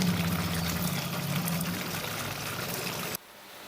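Water poured from a cup into a pot of simmering chicken rezala, a steady close splashing pour lasting about three seconds and cutting off abruptly, with no voices.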